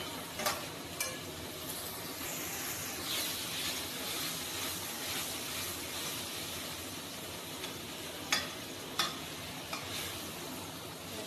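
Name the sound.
sautéing in a pan for chicken biryani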